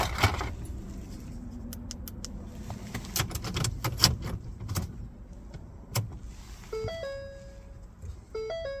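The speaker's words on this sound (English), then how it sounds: "insert the new key into the ignition and turn to on position" Car key inserted and turned in the ignition of a 2004-2015 Ford Explorer, giving close mechanical clicks and jangling key sounds, followed by a series of electronic chime tones from the dashboard.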